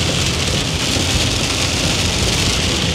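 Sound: heavy rain while travelling

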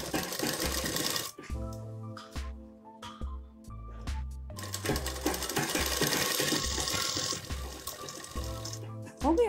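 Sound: sewing machine stitching a palazzo belt

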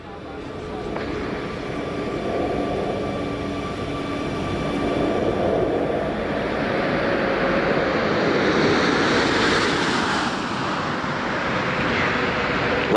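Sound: Space Shuttle Atlantis flying in to land

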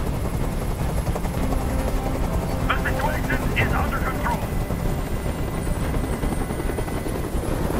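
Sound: helicopter in Detroit: Become Human video game

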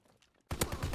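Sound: gunfire in the video game Call of Duty: WWII

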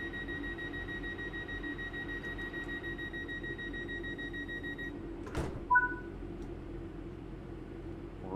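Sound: train doors closing in Train Sim World 3 video game

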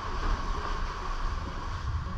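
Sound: aluminium sailboat noise underway

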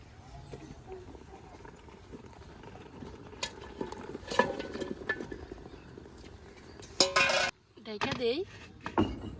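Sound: stirring rice in a cooking pot

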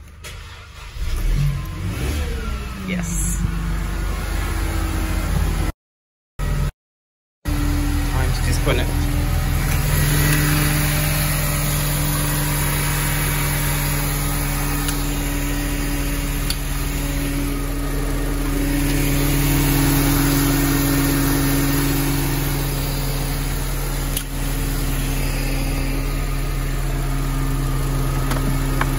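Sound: Mercedes car engine starting and idling

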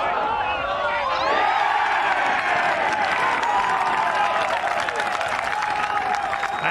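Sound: golf crowd cheering a birdie putt at the Open Championship

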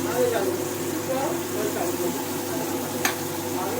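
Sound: onions sautéing in a pan

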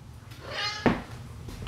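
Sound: cat

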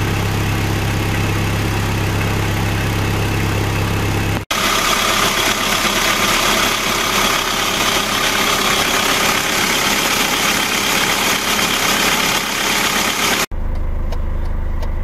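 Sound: Ford 4x4 engine idling after start

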